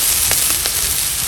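Spring onions sizzling in a wok for a salmon stir fry: a steady, loud frying hiss with a few brief crackling spits, no talking.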